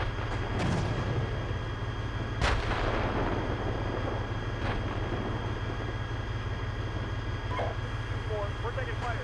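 Incoming gunfire and artillery, with sharp distant bangs and a few louder booms over a constant rumbling background, while voices talk over radio.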